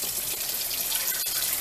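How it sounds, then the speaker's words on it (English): Cold tap water pours steadily over frozen lima beans in a kitchen strainer, a continuous hissing rush with no break. "Before I put the lima beans in, I'm gonna rinse them off in some cold water."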